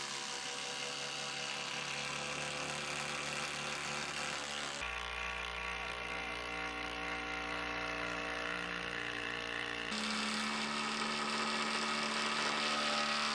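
A power driver sinks 5-inch lag bolts into wood for a lean-to shed, a steady mechanical whir that changes pitch in three distinct stretches as the bolt bites deeper, close and without speech.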